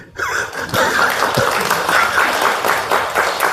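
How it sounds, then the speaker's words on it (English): Applause from an audience at a public speech, a steady, full burst of many hands clapping together, loud and continuous with a few louder accents. "They need an applause, actually."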